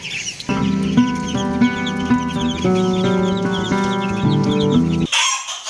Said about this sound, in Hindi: अब इस गंजे मुर्गे को भी खुला छोड़ देते हैं और इन बैंटम को भी खुला छोड़ देते हैं